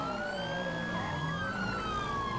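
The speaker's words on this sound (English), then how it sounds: "I hear sirens everywhere" Police sirens wailing in the video game GTA 5, several overlapping rising and falling tones sweeping across one another at a moderate distance, steady and continuous with no talking.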